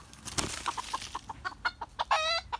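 A rooster clucks in a quick series of short, close notes, ending with a longer, throatier call and a few more clucks.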